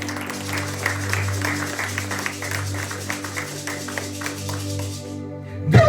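A church congregation at a French-language worship service claps for the Lord in dense, sustained applause that runs about five seconds and then stops abruptly, over a low steady hum.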